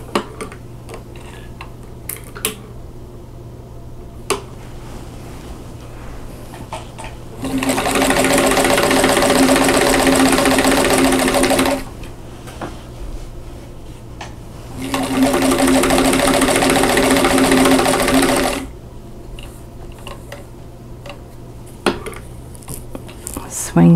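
A sewing machine stitching quilt squares a quarter inch from a drawn line, running in two loud sustained bursts of about four seconds each, separated by quiet handling clicks and small taps.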